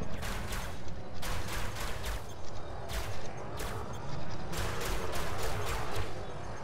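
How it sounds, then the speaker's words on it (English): Rapid bursts of ship weapons fire in the space combat game Elite: Dangerous, flown in a Viper, crackle in repeated volleys with short gaps, loud and close over a steady engine rumble. "Doesn't look like their weapons fire is doing much of anything to me"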